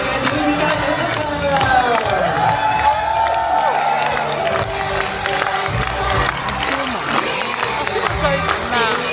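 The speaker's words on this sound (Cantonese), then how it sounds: "用熱烈掌聲，有請我哋嘅表演家長出場" An audience at a kindergarten performance clapping and cheering, a continuous crowd wash of applause mixed with excited voices and calls throughout.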